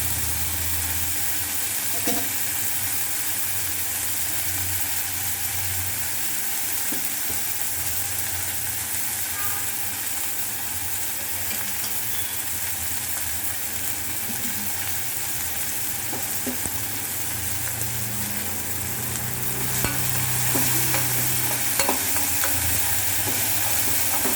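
Squid gravy being sautéed and stirred in a pan makes a steady, loud sizzle and frying hiss that runs continuously, with occasional soft scrapes of the stirring spoon.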